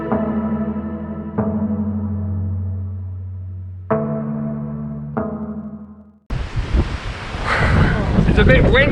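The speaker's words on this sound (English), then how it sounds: "It's a bit windy today" Wind gusting and sea lapping against the rocks along the Portofino coast in Italy: a loud, rushing broadband wash that takes over in the last few seconds, following a long stretch of steady tonal droning.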